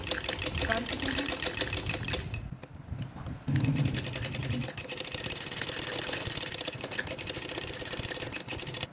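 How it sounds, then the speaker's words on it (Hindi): A sewing machine stitches piping trim onto a neckline, running in a fast, even mechanical chatter close by. It pauses briefly midway, then resumes, while someone talks over it. "अब हम इसको ऐसे रख के बिल्कुल स्टार्ट से ऐसे रखते रखते हमने सिलाइयाँ लगा देनी हैं इधर सारी"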